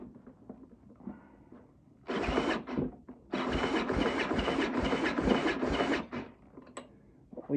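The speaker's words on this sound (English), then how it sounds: "And we will turn the engine over with that" A greasy curbside string trimmer engine is spun over by a drill-mounted socket, giving a loud, steady whirring drone in two bursts of about one and three seconds, with brief pauses between.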